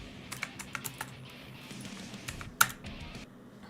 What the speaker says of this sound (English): we're gonna try a keyboard